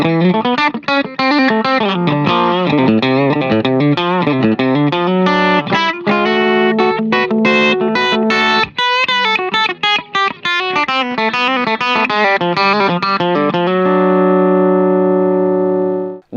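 Compressed electric guitar in a country style through an amp, a fast twangy run of picked notes and double stops, loud and clean, ending on a ringing sustained chord.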